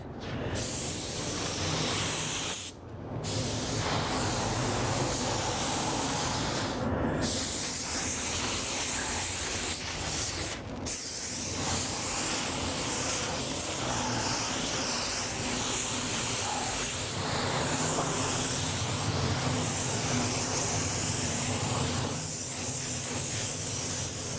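A paint spray gun coats the body of a Bronco muscle car in a loud, continuous hiss close by, cut by a few brief pauses between passes.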